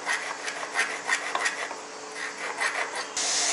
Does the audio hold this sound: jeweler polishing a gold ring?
yes